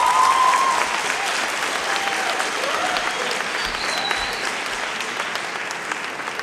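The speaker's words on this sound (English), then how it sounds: "Let's give them another round of applause." Sustained applause from a school audience at a high school sports awards ceremony, dense even clapping throughout that gradually softens slightly.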